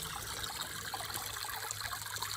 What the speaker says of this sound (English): the water seems to be flowing at least the same, if not a little bit better